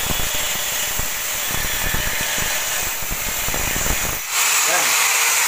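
An angle grinder cuts steel with a steady, loud, hissing whine that shifts abruptly near the end, while someone talks over it.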